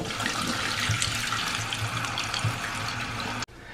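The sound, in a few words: toilet tank refilling after water turned back on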